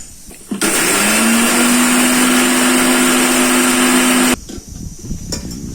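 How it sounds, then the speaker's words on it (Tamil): A mixer grinder roars loudly for about four seconds as it powders black pepper and cumin for a country chicken curry, a steady high motor whine that starts and stops abruptly with quieter rattling around it. "மிளகு, சீரகம்லாம் ஃபர்ஸ்ட் இதை ஃபர்ஸ்ட் பொடி பண்ணிக்கிறோம்."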